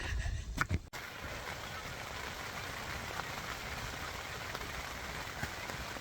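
Steady rain drumming on a tent during an overlanding camp, a dense continuous patter close overhead, with a brief rustle at the start and no talk.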